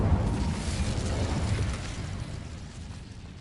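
A fiery Incendio spell from the Hogwarts Legacy video game bursts out as a loud, broad roaring whoosh, strongest at the start and slowly fading over a few seconds, with no talking.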